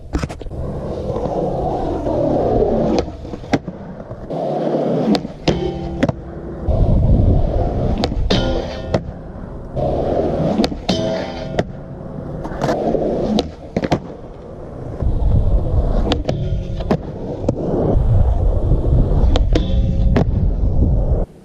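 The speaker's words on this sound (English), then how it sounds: "Can't get enough speed to ollie the bike." Bike riding in a concrete skatepark bowl at Slocan City, with continuous rolling and scraping tyre noise, repeated sharp knocks and clatters, and surges as the rider drops in and carves, loud and close throughout.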